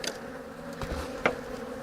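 Honey bees buzz around an open hive during a split inspection, a faint hum with a few brief louder passes as individual bees fly close.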